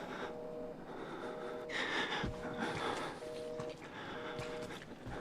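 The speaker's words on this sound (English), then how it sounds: "Miles is breathing very hard right now" Heavy, labored breathing of the player character in the survival horror game Outlast, with gasping breaths running steadily through the clip over a droning, hissing game ambience and faint tonal beeps.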